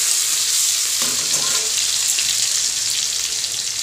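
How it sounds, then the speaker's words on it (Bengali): Onions frying in hot oil in a home kitchen, a loud, steady close sizzle throughout with a brief cluster of stirring scrapes near the middle and no speech. "পেঁয়াজগুলো ভাজা করে নিচ্ছি"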